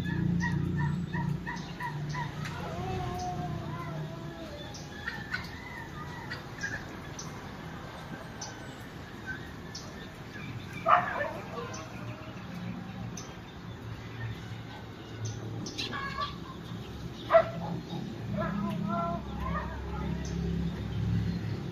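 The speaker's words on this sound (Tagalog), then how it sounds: "Ingay ng mga aso." Several dogs bark and yip at a distance, scattered across the clip against a steady outdoor background, with a couple of sharper, louder barks.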